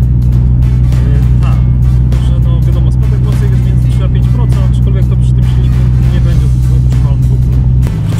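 A Ford Mustang engine running on LPG hums steadily while driving, a constant low drone with road noise, with voices talking over it.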